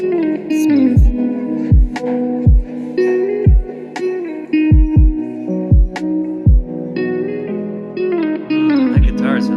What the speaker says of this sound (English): That guitar sounds great.